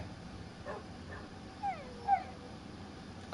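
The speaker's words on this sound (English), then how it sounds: "I'll take that bark as a yes." A dog in Minecraft lets out two short, high whimpering yips in quick succession, faint over a low background hum, with no talk over them.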